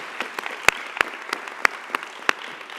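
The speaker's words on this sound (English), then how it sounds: "Can we get a big round of applause for the judges and their staff" An audience at a fellowship program graduation ceremony claps, scattered hand claps standing out as sharp, irregular peaks over a thin, steady patter, moderately loud, with no voices.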